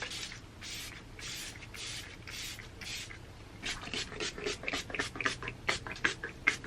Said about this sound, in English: I'm going to set everything with the L'Oreal Infallible Setting Spray